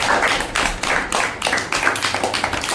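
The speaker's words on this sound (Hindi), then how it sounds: "चलो बड़ी तालियां बजाओ" Children in a classroom clap together at close range, a quick run of sharp uneven hand claps that speeds into a scattered patter.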